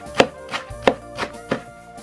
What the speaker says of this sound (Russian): Хвостики вот эти прячу вот так под низ и нарезаю кинзу мелко.